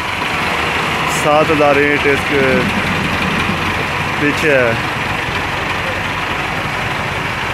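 A Massey Ferguson 265 tractor idles steadily in the background, a constant low engine drone running beneath someone talking throughout.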